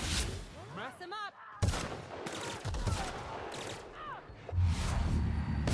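Sniper gunfire in The Outer Worlds, several sharp loud shots mixed with bursts of combat noise and whooshing effects, spread unevenly across the span.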